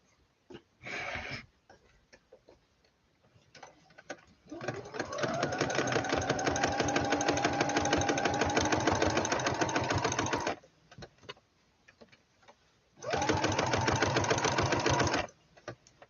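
A sewing machine stitches a center front seam in bursts, a short run, then a long steady whirring stretch of several seconds, a pause with light clicks, and another run, close and clear.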